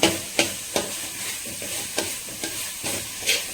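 Potato, cauliflower and eggplant stir-fry being turned in a hot pan, with sharp regular spatula scrapes every half second or so over a steady sizzle, close and loud.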